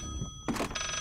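Telephone ringing inside the horror video game Layers of Fear, a bright electronic ring burst following a dull thunk, close and clear against quiet background.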